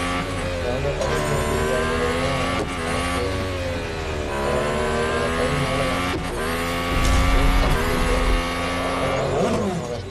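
Race cars in the mobile racing game Real Racing 3 roar steadily with revving engines and shifting pitch, loud and continuous throughout, with occasional tire squeal and a brief swell near the end.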